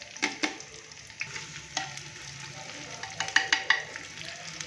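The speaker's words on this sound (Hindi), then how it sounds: "अभी हम प्याज को सुनहरा होने तक फ्राई करेंगे" Chopped onions frying in hot ghee inside a handi, a soft continuous sizzle broken by repeated spoon scrapes and clinks against the pot, close and clear with no voices.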